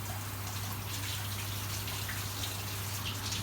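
Steady running tap water pours over a potato being rinsed, a constant even hiss with a low hum beneath and no break across the stretch.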